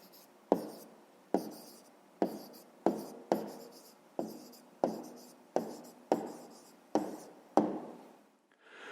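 Writing by hand on paper, heard as a series of about a dozen distinct taps and scratches at a steady, unhurried pace, close and fairly faint, with no talk.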